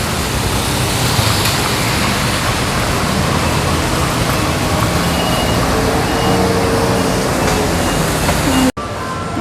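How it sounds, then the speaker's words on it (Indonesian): Heavy rain during a typhoon in Taiwan mixed with passing street traffic, a loud steady broadband wash throughout that cuts off abruptly near the end. "Sekarang ini hujan ya."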